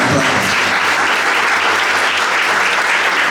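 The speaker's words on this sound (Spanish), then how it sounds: "Se va a aplaudir." An audience at a church service breaks into loud, dense applause, a steady roar of many hands clapping at once that stays close and even for the whole stretch.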